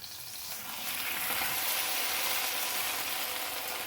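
Potatoes for a Spanish tortilla fry in oil in a pan, giving a steady, loud broadband sizzle that swells slightly after the first half second and holds without voices.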